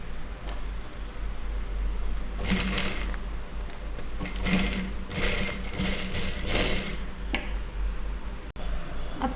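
A sewing machine stitches a neck design on a garment, giving a steady mechanical whirring with rapid needle clatter that comes in several bursts over low background hum, no talking.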